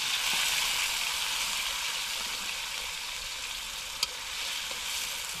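Steady, dense sizzling of food frying in a pan, loud and continuous, with one brief faint clink partway through.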